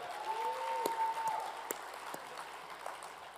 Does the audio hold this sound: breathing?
no